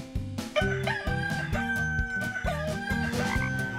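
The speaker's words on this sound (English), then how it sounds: "Rooster." A game rooster lets out a single loud, drawn-out cock-a-doodle-doo, close and clear, over a cheerful looping melody.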